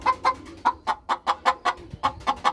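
A hen squawks loudly and repeatedly in a coop after laying an egg, sharp rhythmic cackles coming in quick succession with brief gaps between them.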